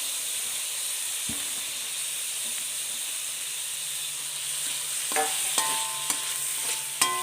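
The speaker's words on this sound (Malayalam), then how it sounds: "ഇതിലേക്ക് ഒരു തക്കാളി അരിഞ്ഞത് ഇട്ട് കൊടുക്കാം" Chopped tomato hitting a pan of frying ginger and garlic gives a steady soft sizzle and hiss, with a few clinks and scrapes of stirring toward the end.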